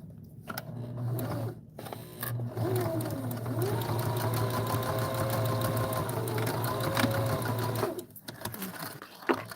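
A sewing machine stitches a 3/8-inch side seam with a back stitch. Short bursts come first, then a steady close whirring run of about six seconds that stops abruptly.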